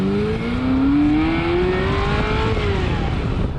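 Ferrari 348 TS engine revs and pulls under load, a loud steady rising drone with strong low rumble that eases off near the end.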